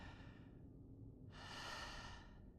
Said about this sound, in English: Who's breathing hard?